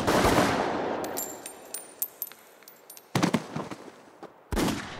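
Rifle and machine-gun fire at an execution site: a long roaring burst gives way to scattered sharp cracks and ringing metallic shots, then two more heavy dense volleys, loud and close, with no talk.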